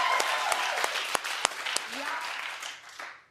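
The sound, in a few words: studio audience applause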